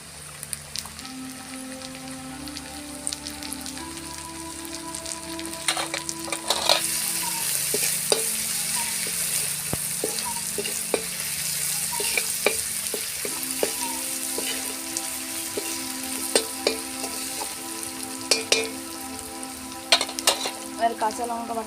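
Onion fried with garlic paste in a pan for a village-style prawn malaikari, giving steady sizzling with repeated stirring scrapes throughout, close and fairly loud, with no talk.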